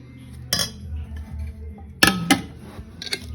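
Hot rice is served onto a plate with metal utensils, giving four sharp clinks and scrapes spaced irregularly over a quiet background.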